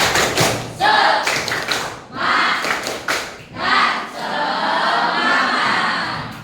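A class performing a rhythmic 'tepuk semangat' cheer clap, loud group clapping in patterned bursts with short pauses between phrases, then a sustained stretch of clapping to close, with voices chanting along.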